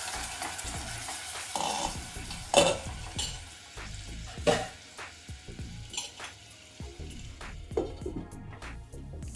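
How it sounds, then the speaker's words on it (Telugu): Curd is stirred into a simmering jackfruit seed biryani pot over a low flame, with repeated scraping spoon strokes, occasional metal clinks against the pot and a faint sizzle underneath. "ఇప్పుడు ఇందులో పెరుగు వేసుకొని కలుపుకోవాలి"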